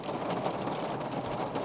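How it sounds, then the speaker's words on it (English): Hail hammers a car's windscreen and roof during a sudden hailstorm in Cappadocia, making a dense, steady, loud patter of impacts with no talk. "So, it's now turned into a hailstorm."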